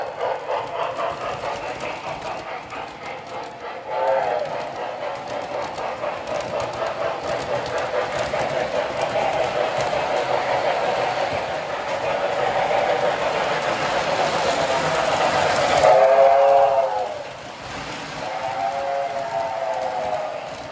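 Lionel model train cars running on a track, giving a steady mechanical hum and rumble with a sustained electronic whistle tone sounding in short bursts partway through, close and fairly loud.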